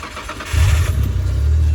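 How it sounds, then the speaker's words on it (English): A Nissan Skyline R33 GT-R V-spec catches on the first crank, with a short starter whirr before the engine fires and settles into a loud, rumbling idle close by. "it just starts first turn of the key"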